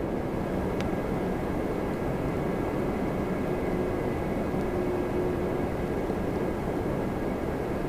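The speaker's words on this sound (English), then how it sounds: "A380." Airbus A380 airliner flying near Toronto Pearson airport, a steady broadband roar of jet engines that holds at a constant level for the whole stretch with no talk over it.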